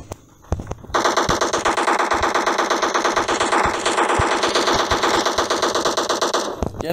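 Automatic gunfire in the battle royale game PUBG: a couple of isolated shots, then a loud, rapid, evenly spaced burst sustained for about six seconds before cutting off.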